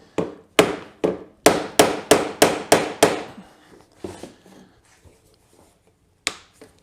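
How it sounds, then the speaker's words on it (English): Sharp hammer blows ring out on a metal part of a Suzuki LT-F300 King Quad in a quick series of about eight, then a few lighter taps and one final strike, close and loud. "I think I'm going to give it a thump with a hammer before I even try it."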